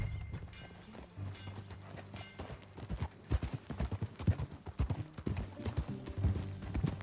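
Horse hooves clip-clop in a brisk, uneven rhythm as riders set off together in the Red Dead Redemption 2 video game, fairly close and building in pace, with a low musical drone underneath.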